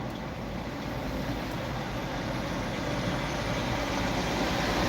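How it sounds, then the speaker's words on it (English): Heavy highway traffic on I-94 in Detroit, semi-trucks rumbling past in a steady, loud, continuous low roar of engines and tires that builds slightly toward the end, with no voices. "I want you to hear these semi-trucks."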